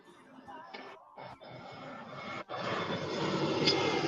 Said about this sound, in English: Oh, got an airplane passing over.